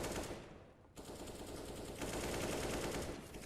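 Rapid MAC-10 submachine gun fire in a Counter-Strike match, a dense, continuous rattle of shots that runs through the whole stretch, with no talk over it.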